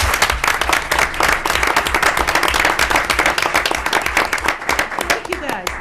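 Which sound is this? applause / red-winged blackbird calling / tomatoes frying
applause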